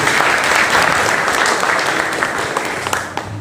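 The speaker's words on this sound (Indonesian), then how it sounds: "Tepuk tangan sekali lagi Mas Yofi." Students clap together in a vocational high school classroom, a dense, steady burst of applause that stays loud throughout and tapers slightly near the end, with no voices over it.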